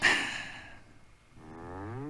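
A cartoonish cow moos in the Earthworm Jim 2 video game: a short bright burst, then a long, low, wavering bellow rising in pitch, heard alone and moderately loud.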